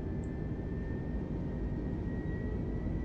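Airbus A320 engines at takeoff throttle in Microsoft Flight Simulator 2020 make a steady, unbroken roar with a faint high whine running through it, with no talk over it.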